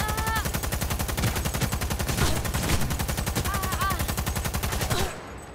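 Rapid automatic gunfire in the Cyberpunk video game, a loud continuous stream of evenly spaced shots for about five seconds, then cutting off abruptly, close, with brief game tones chirping in the background.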